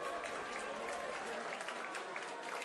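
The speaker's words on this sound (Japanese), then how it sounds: "集まった人たちがおめでとうと拍手で祝福しています" Fans at Sendai Station clap to welcome home the Sendai Ikuei high school baseball team, runners-up at the summer Koshien. The sustained crowd applause sounds soft and somewhat distant, with faint voices mixed in.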